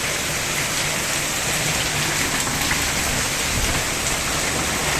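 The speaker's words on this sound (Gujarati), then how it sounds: "હજી તો વરસાદ વધી રહ્યો છે." A heavy rainfall pounds down close by, a thick, constant patter and hiss of drops striking the ground with a faint low rumble beneath, unbroken and fairly loud for the whole stretch.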